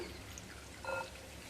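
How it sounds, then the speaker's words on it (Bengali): Water poured into a bowl of semolina, a brief soft splash and trickle lasting under a second, close and fairly quiet against a faint background hiss. "যতটা সুজি দিয়েছি ঠিক ততটাই জল দিয়ে দিলাম"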